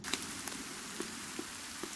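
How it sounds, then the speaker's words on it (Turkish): Rain in the survival game The Forest, heard as a soft, steady patter with a few distinct drops tapping on a surface, quiet and alone without talk. "Yağmur da başladı."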